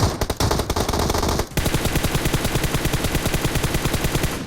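Rapid automatic gunfire from PUBG Mobile crackles in dense, loud bursts, with a brief volley of shots at the start before a long, steady stream of rhythmic rounds.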